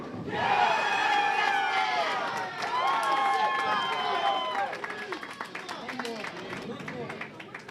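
A crowd and bowling team at a men's bracket final cheer and shout loudly together for several seconds, the yells peaking early and then tapering off into scattered clapping and voices.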